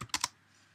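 Three quick keystrokes on a computer keyboard while entering a wireless scan command on a Raspberry Pi, closely spaced clicks in the first quarter second, followed by quiet room tone.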